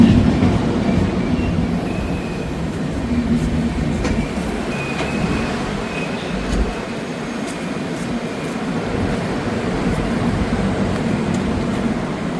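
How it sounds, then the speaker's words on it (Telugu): A passenger express train pulls into a station platform on the way to Chennai, its wheels and carriages rumbling and clattering steadily nearby, with occasional faint squeals and no one talking. "ఇదే మన ట్రైను"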